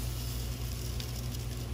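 Rice browning in a pan with onions pushed aside for a biryani makes a faint, continuous sizzle, low and uniform, with no talking.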